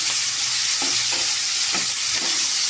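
Sliced onions frying with dried fish in hot oil, a steady close sizzle with a few soft stirring scrapes, no voices.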